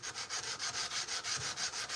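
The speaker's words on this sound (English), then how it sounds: "I'm hand sanding a blade that's got a wrought iron jacket and a high carbon steel core" A blade with a wrought iron jacket and high carbon steel core is hand sanded in quick, even back-and-forth strokes, about eight rhythmic rasping passes, close and alone.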